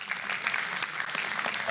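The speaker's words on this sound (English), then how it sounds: "so a round of applause for Mudge" Conference audience applauding at a hacker convention's opening remarks, a brief, dense patter of many hands clapping steadily at moderate volume.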